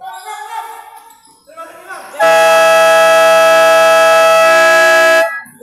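A loud electronic buzzer blares for about three seconds at a basketball game, a sustained harsh tone. Before it, crowd noise and a voice can be heard.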